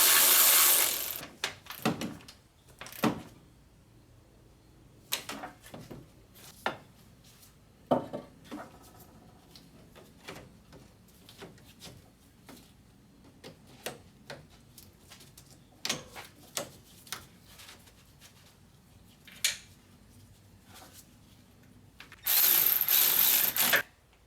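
A hand ratchet tightens bolts on a Mercedes Sprinter charge air cooler in a workshop, with scattered sharp clicks and metallic clanks at close range amid quiet handling noise and a loud hissing burst at the end.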